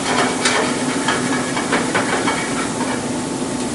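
Pork andouille sausage sizzling loudly in a pan, its own fat spitting in a dense, continuous close hiss with small crackling bursts and no talking.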